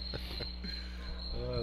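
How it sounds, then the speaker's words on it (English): Crickets chirp with a faint, steady, high insect trill that runs through the background at a basketball game, low in level, under scattered quiet thumps and distant room noise. "Crickets in the background."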